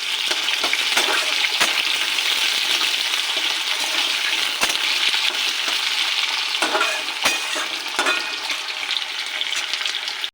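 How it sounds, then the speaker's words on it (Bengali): Potato pieces fry in hot oil with bay leaf and panch phoron, a steady loud sizzle running throughout with occasional sharp stirring clinks from a spatula against the pan. "আলুটাকে একটু ভেজে নেব"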